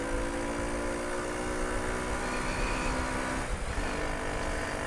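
Lexmoto Aspire 50cc scooter engine held at full throttle, a steady loud buzzing drone with a constant pitch and a brief dip near the end, heavy wind rumble underneath.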